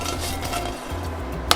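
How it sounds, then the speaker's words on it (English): Sourdough blinis are stirred and flipped in a hot pan, with soft utensil scrapes and clinks over a faint sizzle and a sharp metallic clink near the end. "we're just gonna crack a little bit of salt on here and stir it around"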